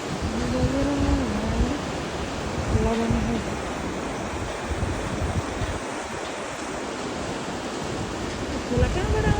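Mountain river rushing along a steep, landslide-prone Himalayan trail on the Langtang trek, a steady loud roar of turbulent water that fills the whole clip, with faint voices briefly over it.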